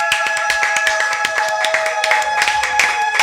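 A church congregation applauds the Lord with rhythmic clapping, many hands beating together in a dense, lively, close sound over a sustained musical tone.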